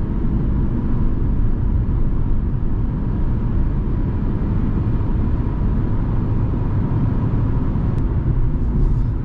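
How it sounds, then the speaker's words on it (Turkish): Inside a Fiat Egea 1.4 held at full throttle in sixth gear at high speed, a constant broad roar of engine and road noise fills the cabin, steady and unbroken, with a few faint ticks near the end. "Şu an 6. vites dip gaz."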